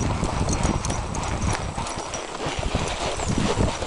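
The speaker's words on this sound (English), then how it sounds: "Nice horse, nice horse." Steady clip-clop of horse hooves on a hard surface during a trail ride, close and continuous, with a busy rattling background and no talking.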